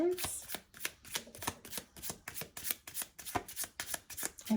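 A deck of oracle cards being shuffled over and over in quick riffling bursts, a steady rhythm of crisp papery flutters close by, with a faint voice at the start.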